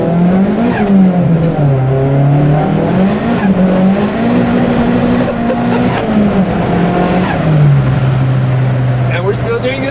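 A tuned Toyota Glanza accelerates on turbo boost, its engine tone climbing and dropping through gear changes, loud from inside the cabin while people talk over it.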